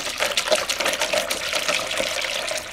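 Rust-removal liquid poured into a bucket to soak a rusty Sears Suburban SS14 fuel tank, a steady, close splashing gush of liquid lasting a few seconds with no talking.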